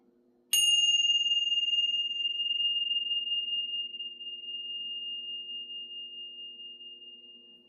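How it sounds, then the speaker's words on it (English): A single bright bell struck once after a brief quiet, its clear pure tone ringing out and decaying slowly over several seconds above a faint low hum, close and alone without talk. "Let's ring the bells."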